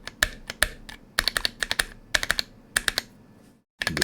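Clicky bursts of typing on a Filco Majestouch II keyboard with Zealios V2 switches in an AliExpress case, close and crisp with short pauses between runs of keystrokes and a brief silence near the end.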